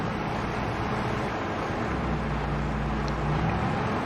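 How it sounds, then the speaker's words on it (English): Tractor engine in the Farming Simulator 22 video game, a steady low rumbling drone that holds at an even level throughout, with a slightly rougher hum in the lower range partway through. "It's a beautiful little tractor"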